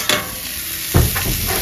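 Rohu fish lightly frying in a pan with cauliflower nearby, a soft sizzle underneath with a couple of brief stirring scrapes, close and moderate in level, no talking.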